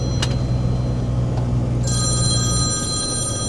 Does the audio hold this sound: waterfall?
no